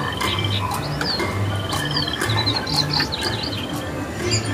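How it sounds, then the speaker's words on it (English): Frogs croak in short repeated low pulses alongside chirping birds and insect-like calls in a Disneyland Adventureland setting, a busy continuous animal chorus without talk. "The frog,"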